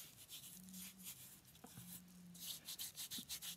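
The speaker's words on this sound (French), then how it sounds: "Allez, on frotte les mains." Hands rubbing together a homemade Aroma-Zone face mask mixture, soft quiet swishing and rasping strokes in repeated bursts, growing into a faster rhythmic rubbing toward the end, close up with no talk.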